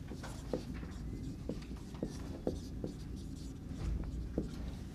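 Chalk or marker writing on a board during a lecture: short scratchy strokes tap and squeak in an irregular rhythm, faint and fairly close, over a quiet room hum.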